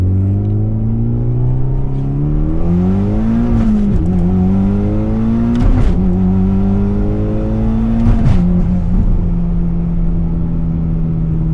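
Mitsubishi Evo X pulling hard under full throttle, a loud close engine note climbing in pitch through repeated gear shifts, with brief breaks in the tone at each upshift.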